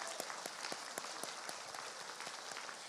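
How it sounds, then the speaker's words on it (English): Audience at an elementary school awards ceremony applauding a class, a soft, distant spread of many hands clapping with a few sharper claps standing out at a steady pace. "Let's give you a round of applause as well."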